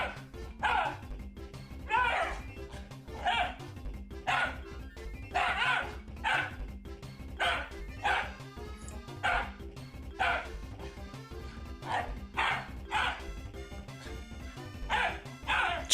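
Several dogs bark repeatedly in loud, evenly spaced bursts, some yips mixed in, over a constant low rumble, with the barking continuing throughout.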